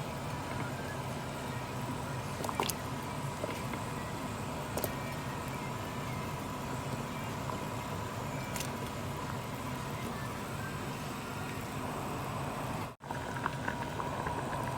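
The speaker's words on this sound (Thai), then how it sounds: "น้ำแกงเดือดแล้วค่ะ" Thai curry broth with bamboo shoots and pumpkin bubbles in a pot, making a continuous soft boiling burble with a few faint clinks over about fifteen seconds and no talking.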